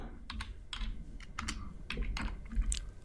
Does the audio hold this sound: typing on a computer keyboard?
yes